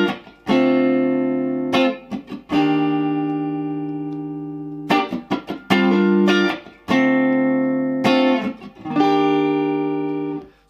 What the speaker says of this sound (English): it's quite a funky little guitar part